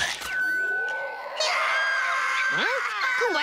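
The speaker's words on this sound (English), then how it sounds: "that sounds like those kittens from next door" Cartoon kittens let out drawn-out, rising and falling meows, fairly close and clear, with a couple of short wavering cries near the end.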